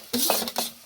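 Gondhali flower greens are tossed in a metal cooking pot, a brief close scrape and clink of a spoon against the pot with a soft sizzle, about two quick stirring strokes, without speech.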